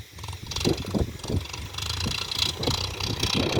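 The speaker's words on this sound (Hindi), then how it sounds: "अभी यहाँ से घूमेगा ट्रैक्टर।" A tractor engine runs steadily while the tractor turns in a field on a windy day, a mid-pitched drone with some rumble and wind noise.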